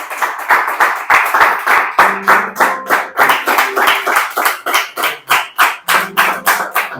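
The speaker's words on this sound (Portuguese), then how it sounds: "Palmas para Jesus." A church congregation claps in a steady rhythmic beat for Jesus during a worship service, loud and close, with sustained sung or spoken voices running underneath.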